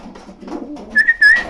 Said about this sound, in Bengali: 5টা কবুতর আজকে প্রায় 7-8 মিনিট উড়িছে